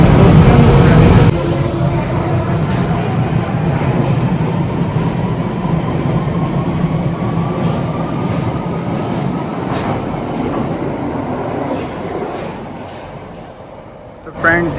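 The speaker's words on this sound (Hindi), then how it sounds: "ये ट्यूब में हम आए हैं, ये सेंट्रल लाइन थी" London Underground Central line tube train rumbles loudly with a steady roar and rising whine as it runs, heard from inside the carriage, with faint voices underneath.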